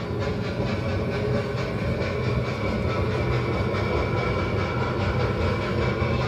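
Recorded locomotive background effects play inside a railroad museum roundhouse, a dense steady rumble with hissing and a faint rhythmic clatter, loud and unbroken throughout with no talking.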